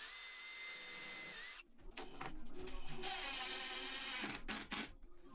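A power drill driving screws into pilot holes through a wooden bottom panel into side panels of a mid-century storage unit, whining in short bursts that rise and stop, close and moderately quiet.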